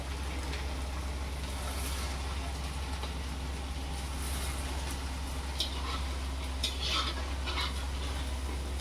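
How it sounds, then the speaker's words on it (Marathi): Sabudana and potato vadas fry in oil over a low flame, with a constant close hiss of oil, a steady low hum beneath it and a few light clinks of a utensil. No one speaks. "हे असे आपल्या एक एक एक एक तेलात सोडायच्या"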